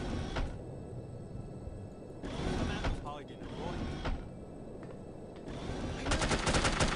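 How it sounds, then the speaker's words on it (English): Gunfire in the spy shooter No One Lives Forever, with bursts of automatic fire crackling among game noise and getting dense and loud near the end. "Oh, stop shooting me. Stop shooting me."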